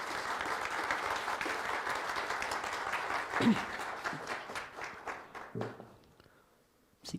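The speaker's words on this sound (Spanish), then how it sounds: "Un fuerte aplauso, por favor." Audience applause at a panel session on sound, nature and identity: steady, dense clapping that holds for several seconds, then thins out into scattered claps and fades near the end.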